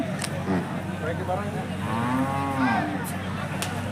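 A calf moos several times at a Hallikar cattle fair, drawn-out nasal calls rising and falling, close by over a steady low background hum.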